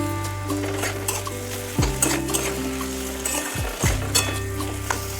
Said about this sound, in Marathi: या मसाल्यामध्ये बटाटा छान आपल्याला परतून घ्यायचा आहे